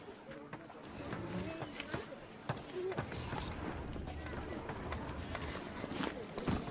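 Horse hooves clip-clop at a steady trot in the open-world video game The Witcher 3, a continuous rhythmic patter under ambient game sound with speech over the top.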